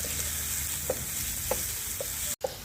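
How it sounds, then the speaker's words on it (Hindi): Onions frying in ghee, a steady bright sizzle close by with a few soft spoon taps as they are stirred, no speech. "अच्छी तरह से प्याज़ों को हम घी में मिक्स करेंगे"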